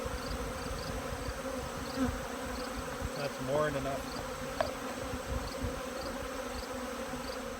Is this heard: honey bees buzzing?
yes